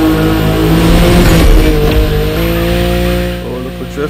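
Tires squeal in long continuous screeches as a car drifts in The Crew Motorfest racing game, engine droning loud underneath while a voice talks over it.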